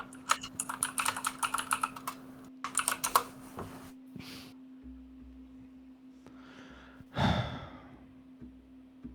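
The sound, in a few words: typing on a computer keyboard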